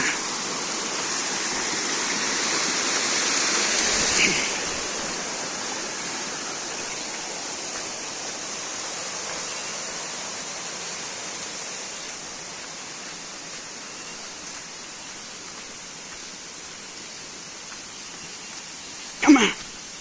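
A waterfall beside a mountain trail on a Pothigai hills trek, a steady broadband rush of falling water that fades slightly over time, with a brief knock near the end and no talk.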